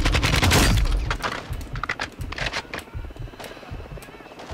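Gunfire in the video game Modern Warfare II, a loud opening burst followed by repeated sharp shots and crackling impacts that gradually thin out toward the end.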